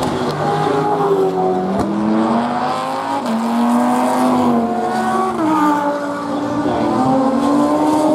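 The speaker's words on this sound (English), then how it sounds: "Dodge Viper coming around now as well." A Dodge Viper race car circles a racetrack, its engine roaring loud and steady with rising and falling revs as it accelerates through the corners, close by and continuous, with no talk over it.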